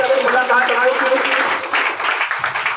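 An audience claps and applauds loudly for a few seconds after a Hindi speech at a wellness promotion event, the clapping dense and continuous while a voice carries on over it.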